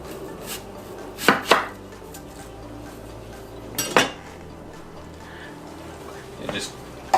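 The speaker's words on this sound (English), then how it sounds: "I like my slices to be not too thin, because I like to actually eat the onions." Knife slicing an onion into not-too-thin slices on a cutting board: a few scattered, sharp cuts against a noisy kitchen background.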